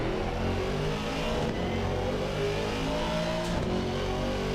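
A Mercedes-AMG GT4 race car in Assetto Corsa Competizione revs steadily at COTA with a sustained mid-pitched engine note. Faint gear-change dips occur midway and near the end.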